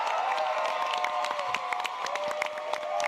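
A live audience at a Sonic anime expo panel cheers and claps, a loud dense burst of applause, whoops and shouts that holds steady throughout.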